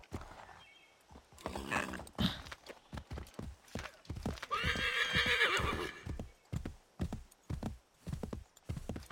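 A horse whinnies loudly mid-clip in the video game Assassin's Creed 3, surrounded by repeated hoofbeat clip-clops and scattered impacts, fairly close and busy.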